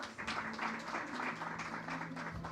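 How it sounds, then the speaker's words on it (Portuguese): An audience at a presentation applauds a guest speaker, producing a faint, distant patter of clapping with a low steady hum underneath. "Palmas para ele."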